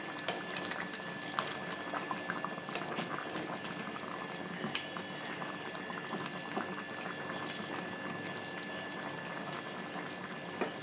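A pot of prawn fritter curry simmers with steady bubbling, and the fritters are stirred into the sauce beneath it in a home kitchen; the bubbling stays close and continuous throughout, with no voices.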